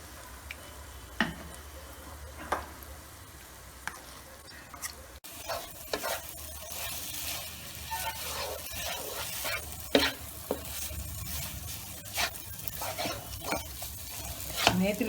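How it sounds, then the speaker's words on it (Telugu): Ground moong dal flour frying in ghee, with soft sizzling under repeated close clicks and scrapes of stirring that run steadily throughout, and no voices. "నేతిలో ఈ పెసరపిండిని వేపాలి."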